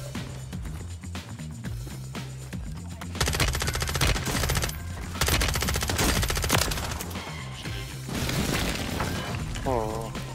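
Rapid gunfire and shotgun blasts in Warzone 3 on Rebirth Island, loud bursts of automatic fire and booming shots stacked over game noise, with a voice talking underneath at times.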